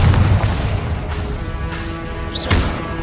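A Confringo fire spell in Hogwarts Legacy bursts with a heavy low boom and roaring crackle, then fades into a hissing rumble before a second sharp blast near the end, loud and without speech.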